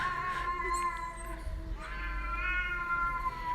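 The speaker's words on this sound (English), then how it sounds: "That's a cat that's outside" A cat meows outdoors, two drawn-out cries separated by a short pause, fairly close and clear above a low background hum.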